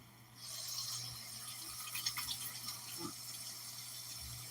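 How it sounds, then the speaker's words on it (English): Tap water runs steadily into a sink while hands are washed, a close hissing flow with small splashes and shifts as the hands move under the stream. "let me wash my hands."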